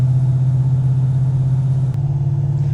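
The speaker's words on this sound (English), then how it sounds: "the only thing I'm hearing is the wind going past the window right here. And the exhaust, of course." Steady low exhaust drone from a 1969 Dodge Charger while driving, a constant loud engine hum holding even throughout with a faint wind hiss above it.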